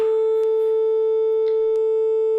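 A steady 441 hertz pure sine tone sounds alone for a couple of seconds, smooth and constant with no other sounds.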